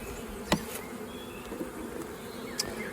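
A honey bee colony buzzes steadily at its hive, a dense continuous hum close by with individual bees whizzing past now and then, no talking.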